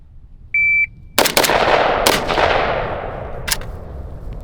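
5.56 AK rifle at a shooting range: a shot timer's sharp electronic beep, then rapid rifle shots, two close together, a third a second later and a fourth after another pause, each ringing off loudly.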